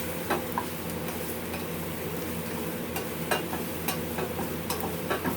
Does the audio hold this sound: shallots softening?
yes